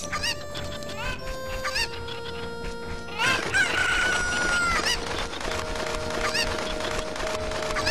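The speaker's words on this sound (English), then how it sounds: "there's a chicken that's in the other corner that I need to get" Chickens in The Legend of Zelda: Ocarina of Time cluck and crow loudly over melodic game music, with a burst of overlapping bird calls in the middle of the passage.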